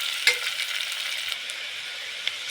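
Onions frying in a pan for menthya pulao, a soft steady sizzle with a few light clinks of a spoon against the pan, close and alone without speech.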